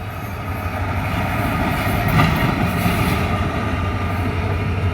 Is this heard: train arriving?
yes